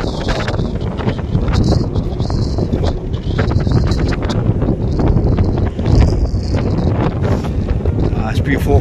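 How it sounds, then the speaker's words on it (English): Strong wind gusting outdoors at an open carp fishing lake, forecast near 47 mph, roaring and buffeting the microphone loudly and continuously for the whole stretch, with no voice over it. "Forecast 47 miles an hour winds, but it is blowing in here"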